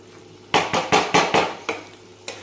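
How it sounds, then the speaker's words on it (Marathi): A spoon scrapes and knocks through a pot of spicy mutton curry, about six sharp stirring strokes in quick succession over a low background sizzle. "तर छान असं हलवून घ्यायचं आहे याला."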